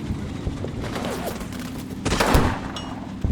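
Rifle fire crackles from a hedge line and buildings in the WWII wargame Combat Mission Final Blitzkrieg, several sharp shots over a busy battlefield bed with a heavier burst of fire near the end.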